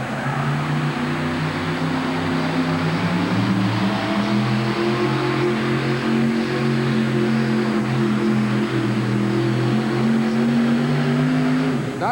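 A monster truck engine roars steadily at a 1988 truck pull in Denver, revving with rising and falling tones throughout, heavy and close, straining under load.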